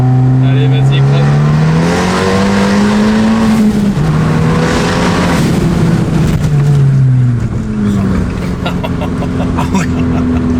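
A Stage 3 tuned Abarth 595 accelerates hard, its engine rising and falling in loud, rough surges through gear changes, with excited voices talking over the noise from inside the car.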